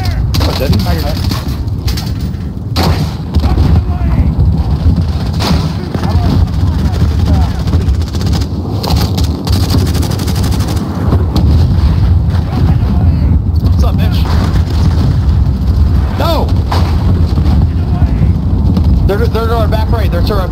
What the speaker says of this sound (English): What was that, a mortar?